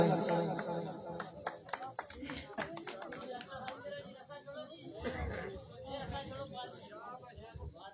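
Scattered clapping from an audience at a mushaira poetry gathering, brisk at first and thinning out, mixed with murmuring voices and chatter in the room.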